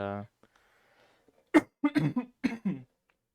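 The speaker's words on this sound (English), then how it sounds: "I'm sorry for coughing so much" A voiced tone fades out, then after a pause a cluster of several sharp coughs comes in quick bursts, close and fairly loud.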